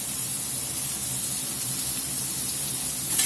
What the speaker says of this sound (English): We're going to get some bacon grease in. We're going to drop these onions in here.